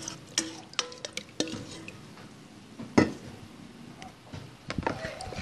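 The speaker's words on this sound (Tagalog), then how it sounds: "Haluin natin yung ating coconut milk." Stirring coconut milk in a large mixing bowl for a buko pandan sapin-sapin layered sticky rice cake: soft, scattered utensil scrapes and clinks against the bowl, with one sharper knock midway, close and fairly quiet.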